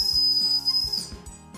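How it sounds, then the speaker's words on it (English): A whistle is blown in one sustained shrill tone lasting about a second, loud and close, followed by faint rustling. "Can I blow the whistle?"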